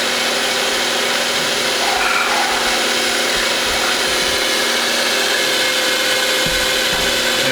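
Loud, continuous whirring drone of a power drill running steadily through metal, grinding on without pause, with slight shifts in pitch and no talking.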